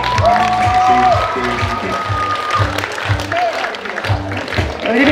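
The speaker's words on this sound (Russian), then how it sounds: "Вы аплодировать будете громко!" A crowd at a dolphinarium show in Bolshoy Utrish applauds loudly under energetic talk from a presenter, with music and whistle-like tones mixed in.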